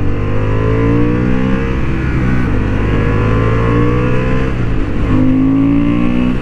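A Honda Hornet 750 motorcycle on a racing track, its engine droning loud and close with steady harmonic tones that shift pitch through gear changes around two and five seconds, no voices present.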